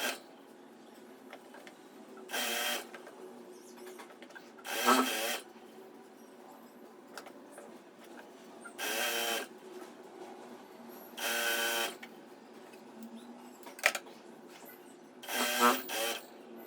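Several short bursts of sewing machine stitching on a folded salwar hem, each lasting about a second, separated by quieter pauses with faint handling noise in a small room.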